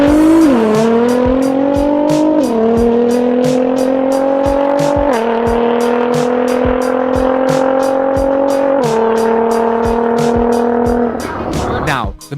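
Matte grey Nissan GT-R R35 with an NXGEN Alpha 6 conversion driving at a private event, engine droning loudly through several upshifts with rising pitch between gear changes, plus sharp ticking transients.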